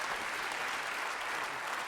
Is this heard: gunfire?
no